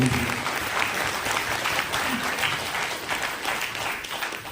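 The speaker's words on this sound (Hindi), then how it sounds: "और ऐसे आप सभी लोग एक जोरदार तालियां बजाते हैं।" A crowd at a Hindi motivational camp gives loud, sustained applause, dense clapping that fills the room evenly for several seconds, starting strong and easing only slightly.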